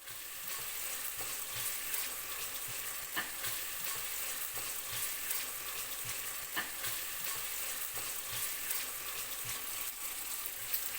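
Onions and slit green chilies fry in oil for coconut milk rice with a low, continuous sizzle, while quiet, periodic scraping marks the stirring throughout.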